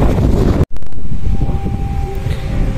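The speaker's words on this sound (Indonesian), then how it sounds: "Lagi pula ini anginnya cukup kencang teman-teman." Strong wind buffeting a microphone at an outdoor railway station, a loud continuous low roar with one brief dropout, steady throughout with no voices.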